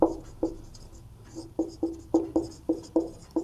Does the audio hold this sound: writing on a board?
yes